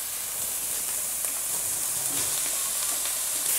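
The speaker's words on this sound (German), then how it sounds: "Einfach jetzt so lange umrühren und anbraten, bis ihr merkt, das Kraut fällt ein bisschen in sich zusammen" Cabbage, spring onions and carrots stir-frying in a pan give off a steady, dense sizzle and hiss that holds evenly close by, with no talking.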